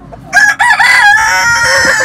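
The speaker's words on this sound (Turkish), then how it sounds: "Orman tavuklarının ikisi de orada duruyorlar." A loud, close forest chicken rooster crow rings out on a farm, stretching into a long drawn note, with faint clucking beneath.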